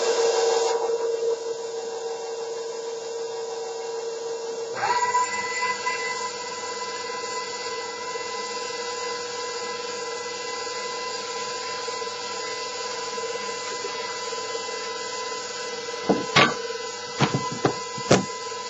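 An electric hand mixer whirs steadily as it blends wet ingredients for a peanut butter meltaway cake, a continuous motor drone that shifts pitch around five seconds in, followed by a few sharp clacks near the end.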